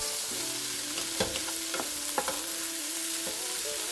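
Beef stew ingredients saute in a pot with a soft, steady sizzle, broken by a few quick stirring scrapes and clinks, heard close and alone with no voices.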